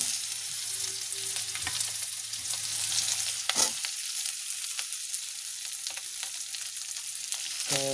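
Cut potatoes and vegetables frying in oil in a pan for mixed veg chowmein, a steady bright sizzle with occasional stirring clatter and no talk.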